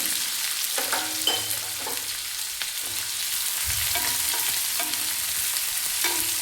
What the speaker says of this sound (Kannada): ಇದೆಲ್ಲ ಹಾಕಿ ಸ್ವಲ್ಪ ಕಲರ್ ಚೇಂಜ್ ಆಗೋವರೆಗೂ ಫ್ರೈ ಮಾಡ್ಕೊಳ್ಳೋಣ